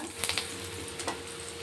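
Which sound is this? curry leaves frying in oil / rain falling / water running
curry leaves frying in oil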